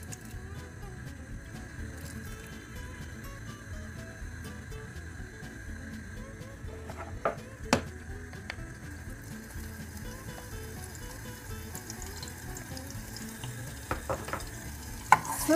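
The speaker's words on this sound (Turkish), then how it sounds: "Sarımsaklarımı sıvı yağda şöyle bir çeviriyorum." Three cloves of garlic stirred in about two tablespoons of vegetable oil in a pan, a soft steady sizzle with faint scraping and a few light clinks, quiet and close, no voices.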